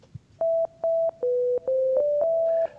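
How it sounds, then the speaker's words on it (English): A single sine-wave oscillator on an FM synthesizer plays a series of clean, pure tones, each held briefly and separated by short gaps, close and alone. "It's a sine wave, and that's all I can hear."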